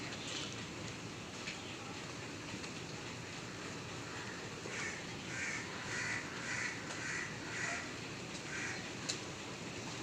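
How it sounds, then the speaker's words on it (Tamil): Crows caw repeatedly at a distance over a steady broadband outdoor hum, the harsh calls coming in a loose series midway through. "இப்போ வந்து காக்கா வந்து பயங்கரமாக கத்திக்கிட்டுருக்கு"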